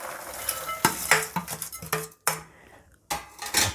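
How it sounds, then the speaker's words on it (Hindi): Crunchy roasted poha stirred in a pan with a metal spoon, giving bursts of dry scraping and rattling clinks in short strokes, close and clear, with pauses between strokes. "भुना हुआ पोहा, और इसकी आवाज़ से आपको पता लग रहा होगा कि कितना करारा और क्रंची ये पोहा भुनने के बाद हो गया है।"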